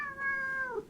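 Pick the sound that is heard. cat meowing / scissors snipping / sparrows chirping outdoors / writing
cat meowing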